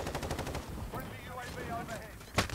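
Gunfire in the shooter game Call of Duty: Modern Warfare (2019), a rapid burst of repeated shots at the start followed by softer game sounds and a sharp final crack, with faint voice or game chatter mixed in.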